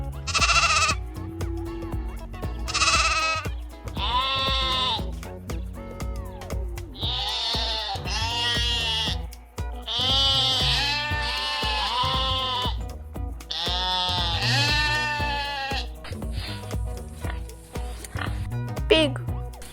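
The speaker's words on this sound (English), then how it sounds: "Sheep." Sheep bleating in a farm-animal setting: a series of loud, close, wavering bleats repeats one after another, with short gaps between calls and no other sounds.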